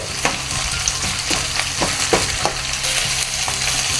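Green chillies fry in a pan for Jaffna-style chicken curry, giving a dense, steady sizzle with several distinct stirring clacks spaced through it, close and loud, with no one speaking.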